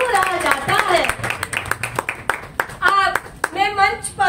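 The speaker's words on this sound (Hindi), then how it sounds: "बस बजाते रहे तालियां तो महफिल में भी सुरूर आ जाता है।" At a Hindi poetry gathering, an audience claps in scattered bursts beneath someone speaking, with the hand claps coming through as sharp, uneven strikes between her phrases.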